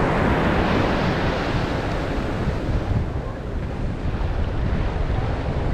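Cold Atlantic ocean surf breaking on the shore at Lisbon, Portugal, a loud continuous roar of crashing waves mixed with heavy wind buffeting the microphone, briefly easing before surging again.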